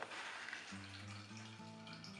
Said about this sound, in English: you can probably just see I've got juice already dripping into my jug.